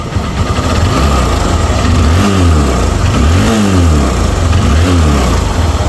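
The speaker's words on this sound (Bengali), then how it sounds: "তাই স্টার্ট করবো একদম ছোঁয়া দিলে স্মুথলি সাউন্ড আছে ডবল ডিক্সের গাড়ি" A second-hand Hero Hunk 150cc double-disc motorcycle idles with a steady, loud engine note, rising in three throttle blips of revving and falling back, close by with no talk.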